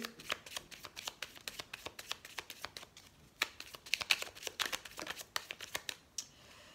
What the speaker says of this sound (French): Oui, il y a beaucoup de cartes là. On va remélanger.